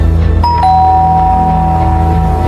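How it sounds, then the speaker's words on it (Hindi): A doorbell chimes with a two-tone ding-dong, the second tone ringing out and fading slowly over a steady low hum. "दरवाजे की घंटी बजी।"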